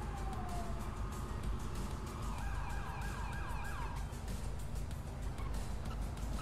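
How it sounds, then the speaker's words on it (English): Ambulance siren in a video game, a steady wailing tone sweeping up and down over a constant dense background of traffic-like noise, fairly loud and continuous throughout. "look at the little pink ambulance"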